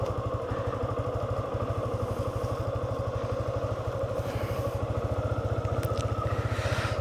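A motorcycle engine idles while warming up on a cold winter morning, a close, even, rapid low thumping that stays steady throughout.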